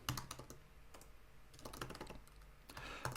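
Quick, uneven bursts of computer keyboard typing, close and crisp, with clustered keystrokes separated by brief pauses and no voices.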